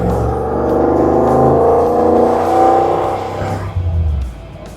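An LS-swapped 1983 Jeep Scrambler with a 4L60E automatic transmission drives past loudly, its V8 engine droning steadily as it pulls. A shift follows, after which the engine note drops and fades toward the end.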